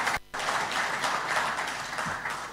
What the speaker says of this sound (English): Let's give a better clap for the chairman of IGAD.